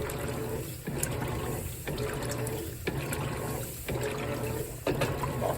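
Water pours steadily into a Whirlpool WTW4815EW1 top-loading washer as it fills, a continuous rushing trickle with a few brief dips and surges, close and fairly loud, with no talking.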